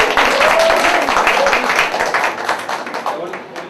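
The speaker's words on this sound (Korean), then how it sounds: "박수를 해주십니다." An audience at a church mission gathering claps loudly from the start, then the applause thins and fades while a speaker talks over it.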